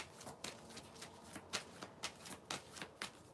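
Playing cards being shuffled by hand, a quick series of crisp riffling bursts coming in a steady rhythm, close and fairly quiet, with no talking.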